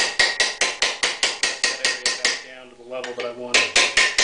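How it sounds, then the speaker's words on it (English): Hammer blows ring out on a car fender panel, a steady rhythm of sharp metallic strikes, close and loud, that pauses briefly while someone speaks before the blows resume. "I'm kind of lessening the intensity of the hammer blow"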